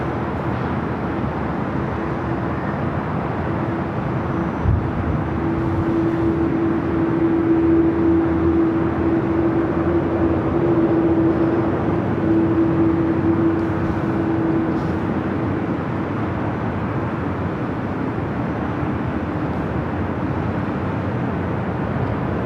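An Aeromexico airliner takes off from runway 24 left at LAX, a steady broad jet roar that holds evenly throughout, heard from some distance with no one talking.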